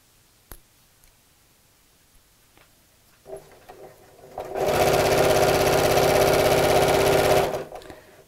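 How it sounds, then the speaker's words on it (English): A sewing machine with a zipper foot runs steadily for about three seconds of continuous stitching down the centre of a tape, loud and close, after a few faint clicks and a brief start-up whir. "So let's just sew straight down the centre of the tape."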